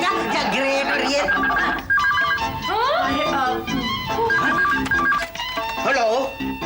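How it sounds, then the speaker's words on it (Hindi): Telephone ringing in a Hindi TV drama scene, heard amid background music and people speaking, with tonal ringing notes mixed into the busy soundtrack. "तभी फिर से फोन की घंटी बजेगी"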